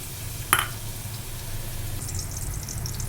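Crushed garlic, mustard seeds and cumin fry in hot oil in a pan as a tempering for a Malvani-style colocasia leaf dish, with a sharp click followed by a low steady hiss that becomes a bright, crackling sizzle.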